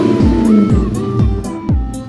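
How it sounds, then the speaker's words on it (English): A Toyota 1UZ V8 in a project car revs repeatedly, each throttle blip rising and falling in a loud, rhythmic series of four or five close, sharp engine swells. "we love the sound of a 1UZ"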